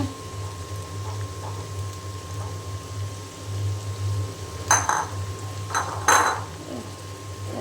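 Pots and utensils clatter on a tiled kitchen counter, a few sharp metallic clinks and knocks clustered near the end over a low steady hum, while ash gourd fries nearby.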